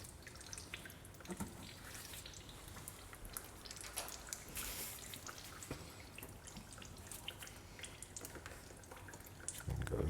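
Fluid dribbling and dripping from a freshly cut hose on an old Toyota, a steady faint trickle with scattered drips running throughout.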